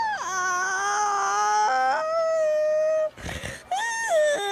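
Eleanor, a character in the animated holiday film Eight Crazy Nights, wails and snorts through sobs, a loud, high, wavering cry broken by a short snuffling gasp partway through.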